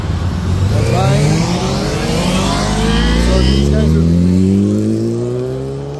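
A Kawasaki Ninja ZX10R sport bike pulls away and accelerates hard, its engine note climbing through rising gear pulls, loud and close for several seconds before easing slightly at the end.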